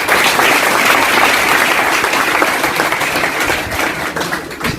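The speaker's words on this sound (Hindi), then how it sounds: "पीछे नहीं ताली बज रही बेटियों, पीछे ताली नहीं बजी" Students at a college award ceremony give loud, sustained applause that fills the hall, staying strong throughout and easing slightly toward the end.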